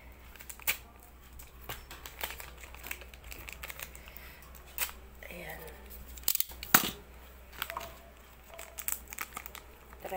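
Cutter knife slicing during a homemade conditioner and vinegar hair treatment, with scattered sharp clicks, scrapes and crinkling handling noises at close range, and a few louder snaps in the middle.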